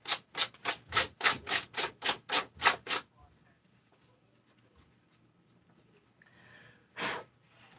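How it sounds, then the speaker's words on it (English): Hand sanding a surface with coarse 50 grit sandpaper in a cross-hatch pattern: about ten quick, rhythmic rasping strokes close up, followed by quiet and one last stroke. "Just going to cross hatch this a little bit with 50 grit."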